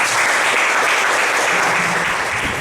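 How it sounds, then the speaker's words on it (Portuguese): A church congregation claps in sustained, dense applause that stays loud and even throughout, with no talk over it. "Palmas para o Senhor Jesus."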